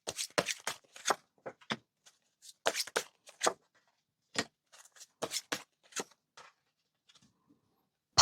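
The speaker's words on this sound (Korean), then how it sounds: "8월에는 어떻게 될지 카드로 한번 뽑아보도록 할게요" Tarot cards being shuffled and drawn, with sharp papery riffles and slaps in irregular bursts, close and fairly quiet, with pauses between flurries and no talking.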